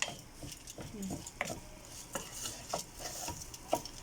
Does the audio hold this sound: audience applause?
no